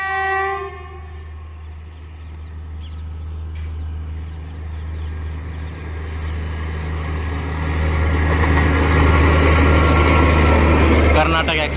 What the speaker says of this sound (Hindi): एक ट्रेन आने वाली है सामने से, जो ट्रेन आ चुकी है, देखते हैं कौन सी ट्रेन है ये।